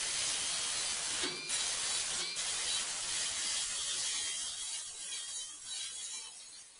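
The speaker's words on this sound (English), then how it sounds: "I'm going to grab the grinder. I'm going to start working these nubs down." Steady, hissing grind of an angle grinder wearing down metal nubs on a car body near the cowl and kick panels, continuous and loud throughout with no talking.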